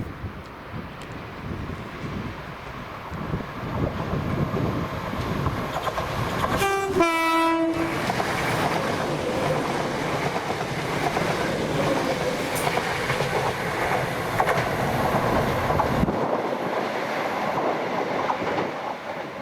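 ScotRail class 320 and 318 electric multiple units pass at Bowling with a steady roar and rail clatter throughout. A loud train horn sounds once midway.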